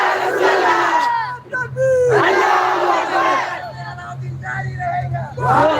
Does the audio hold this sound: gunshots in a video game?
no